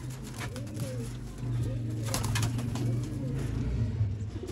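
A pair of black-faced pigeons coo steadily and softly at close range, a low rolling coo that continues throughout with no voices.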